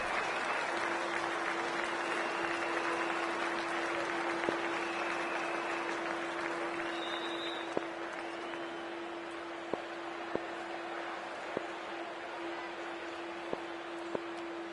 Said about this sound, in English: We're about to get underway and already the crowd is up and about.